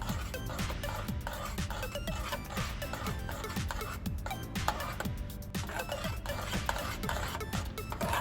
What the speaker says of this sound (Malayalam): നമ്മളിത് നന്നായിട്ട് ഇളക്കിക്കൊണ്ടേ ഇരിക്കണം